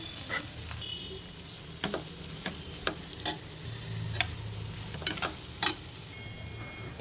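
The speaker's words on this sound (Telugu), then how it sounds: "ఇప్పుడు వీటన్నిటిని మిక్స్ చేసుకుందామండి." A spoon scrapes and taps in a pan as an egg, garlic and chili mixture with spices is stirred, giving scattered light clicks over a faint sizzle, quiet with no voices.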